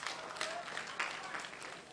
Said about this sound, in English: You are clapping. You are clapping.